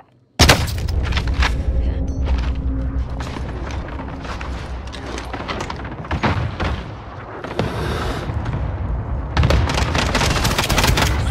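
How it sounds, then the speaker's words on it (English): In a video game, cluster strike explosions and gunfire erupt: a sudden heavy boom, then continuous rumbling blasts and crackling shots that build again toward the end, loud and dense throughout. "Enemy cluster strike incoming."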